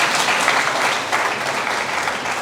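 Audience applause at a graduation ceremony for a Tek4Kids class, a dense, steady wash of clapping from a crowd that holds at an even level throughout with no voices standing out.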